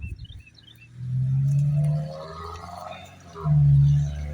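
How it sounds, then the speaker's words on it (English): Highway traffic noise beside an old rural cemetery: a low rumble swells as vehicles pass close by, with two louder surges a couple of seconds apart. No one speaks. "Sorry for the road noise."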